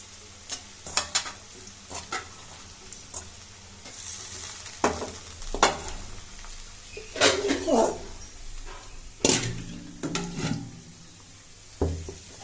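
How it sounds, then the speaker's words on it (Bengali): Potatoes frying in a pan on a stove, a low sizzle beneath repeated loud scraping and clattering as they are stirred, with sharp bursts coming at irregular intervals. "আলুটাকে একটু ভালো করে ভাজে নিয়ে"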